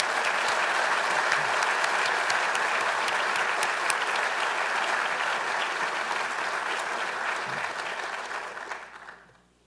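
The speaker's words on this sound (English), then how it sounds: "Please join in a round of applause." A crowd claps at a faculty recognition ceremony at the Army War College, a full, even round of applause that holds steady and then tapers off and dies away at the end.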